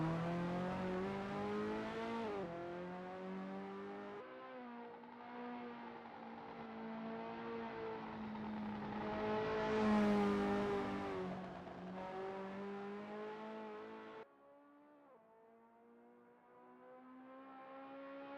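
Ferrari F40 engine in a sim racing game at Road America, a steady loud drone with clear rising and falling pitch through gear changes and revs, dropping off toward the end, with no voices.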